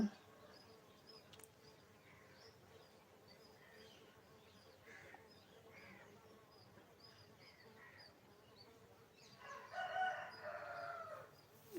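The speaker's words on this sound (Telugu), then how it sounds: "మా పల్లెటూరులో అయితే చక్కగా కోడి కోడిపుంజుల సౌండ్స్ అన్నీ వినిపిస్తాయి" A rooster crows faintly in the distance near the end, over a quiet village outdoor background with soft insect buzz and occasional bird sounds.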